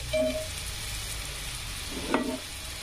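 Eggs dropped into a pan with fried onion sizzle steadily and close, a continuous hiss with a brief louder spatter and clink of stirring near the end.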